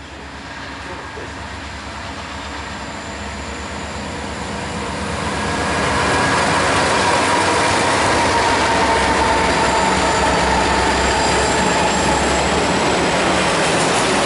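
Norfolk Southern locomotive 8440 passes in East Sandusky, Ohio. A rumbling roar grows louder over the first several seconds, then holds as a loud, steady rush of rolling rail cars with faint wheel squeal.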